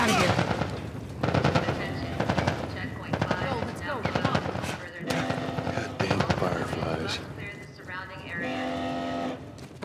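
Rapid gunfire in a firefight against Fireflies in The Last of Us Part 1, with repeated bursts of shots that are loud and close, mixed with shouting voices.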